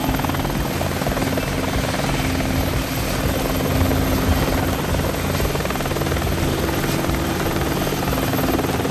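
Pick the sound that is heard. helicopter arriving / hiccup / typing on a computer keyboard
helicopter arriving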